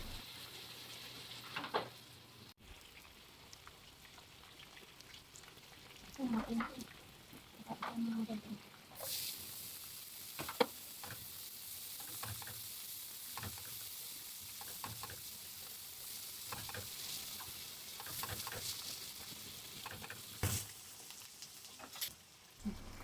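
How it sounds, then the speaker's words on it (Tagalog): Garlic and onion sauté in a little oil, giving a steady soft sizzle with occasional stirring clatter, fairly quiet and close, with no talking. "Tapos igisa lang natin sa bawang at sibuyas."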